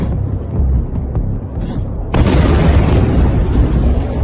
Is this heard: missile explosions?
yes